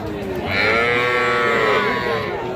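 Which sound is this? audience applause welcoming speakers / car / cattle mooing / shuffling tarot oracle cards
cattle mooing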